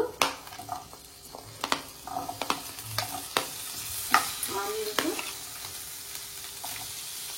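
Onions and masala frying in a little oil, a steady close sizzle with brisk spoon stirring and occasional pan clinks, and no talk.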